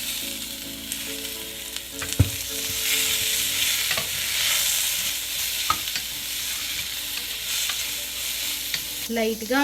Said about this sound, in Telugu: తాలింపు సామాన్లు వేగినాయి కదా, ఇప్పుడు ఉల్లిపాయలు వేసుకుందాం